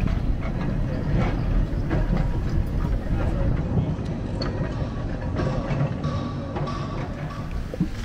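A Blackpool heritage tram, number 1901, rumbles steadily as it pulls out through the gate of Rigby Road depot, a low continuous rolling noise with occasional clanks and rattles, fairly close.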